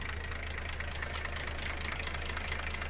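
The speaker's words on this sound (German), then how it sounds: "hier lasse ich jetzt mal den Motor laufen" An old tractor engine idles in the Farming Simulator 19 game, a steady low mechanical drone with a fine rapid pulse that holds evenly throughout, heard alone without any talk.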